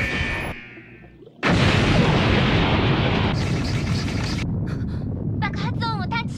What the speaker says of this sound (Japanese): 爆発音を探知しました。